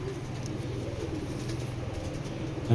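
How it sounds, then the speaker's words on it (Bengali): Foreign-breed pigeons of the Edgewater line, large-bodied birds, coo in a low, steady murmur close by, a continuous soft rumble with no voices over it. "এজওয়াট লাইনের কবুতর"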